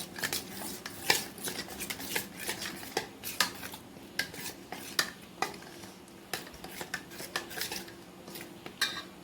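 A spoon stirs spices and tikka masala in a bowl, giving repeated quick clinks and scrapes in an uneven rhythm, close and fairly quiet, with no speech.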